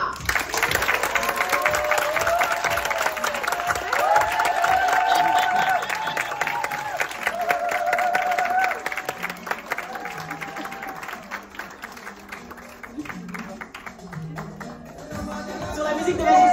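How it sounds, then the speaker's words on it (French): A crowd at a Black Connexion event gives a long burst of applause, dense clapping with some cheering and faint voices underneath, thinning out in the second half as music and chatter take over. "De faire un tonnerre d'applaudissements pour notre très chère"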